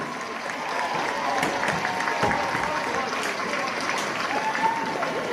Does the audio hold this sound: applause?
yes